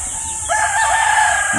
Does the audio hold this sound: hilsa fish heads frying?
no